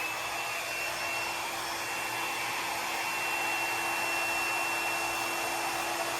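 A blower on its high setting pushes icing colors across palm-leaf cookies, giving a steady, loud, even whoosh that runs without a break.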